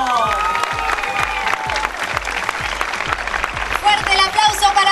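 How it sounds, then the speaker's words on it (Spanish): Applause from a television fashion show audience rises under a loud voice over music, with claps blending into a steady wash and a brief cheer near the end. "Pero quiero un fuerte aplauso, ¿eh?"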